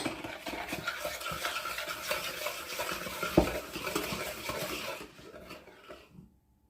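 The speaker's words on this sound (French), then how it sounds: "par bien fouetter les 2 œufs avec le sucre" Two eggs beaten with sugar for muffins, a quick rhythmic scraping and clinking of a whisk against a bowl, close and steady before trailing off into silence near the end.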